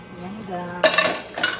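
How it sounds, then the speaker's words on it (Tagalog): Spaghetti noodles tossed through cooking sauce in a pan, with a couple of close utensil scrapes and clinks against the pan after a quieter stretch. "Kaya gusto kong hinahalo siya sa sauce na niluluto."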